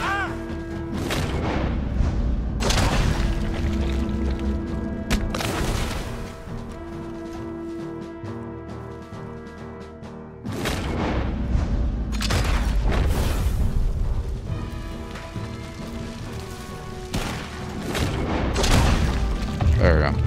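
Incendiary shotgun slugs fire in Red Dead Redemption 2, loud booming blasts repeating every few seconds with crashing impacts and a ringing tail, under a game soundtrack and someone talking.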